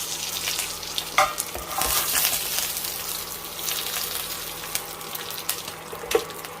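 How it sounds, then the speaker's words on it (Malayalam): Mustard seeds, dried red chillies and curry leaves crackle and sizzle in hot coconut oil, a steady close frying hiss with sharp pops and a spoon stirring now and then, no voices. "ഒരു 2 ടേബിൾ സ്പൂൺ വെളിച്ചെണ്ണ ഒഴിച്ചിട്ടുണ്ട്. ഇതിലേക്ക് കടുക് ചേർക്കാം."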